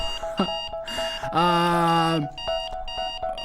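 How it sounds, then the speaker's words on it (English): An alarm clock in the Blind Love video game shrills in repeated harsh electronic bursts, one long sustained blaring tone in the middle, loud and close. "I woke that day to the screeching of my alarm clock in my ear."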